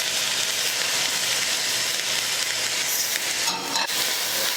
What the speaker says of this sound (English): to 3 tablespoons of extra virgin olive oil. And to it, I'm going to add the onion, pepper